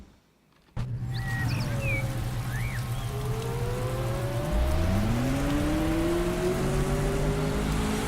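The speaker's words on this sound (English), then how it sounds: "we can definitely see that it's raining" In the video game Motorsport Manager, steady hiss of rain with a low engine drone, then a race car revs up and accelerates away, pitch rising across the clip.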